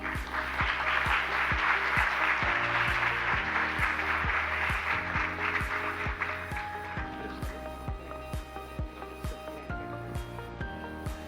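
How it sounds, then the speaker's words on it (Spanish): Applause at a health and mindfulness seminar swells loudly over the first seconds and fades out, while music with a steady beat plays underneath and continues after the clapping ends. "La recibimos entonces con un aplauso."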